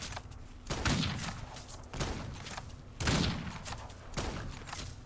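Rifle gunshots from the Old West video game Outlaws of the Old West boom out in several loud, reverberant blasts spaced a second or two apart, over a steady background rumble.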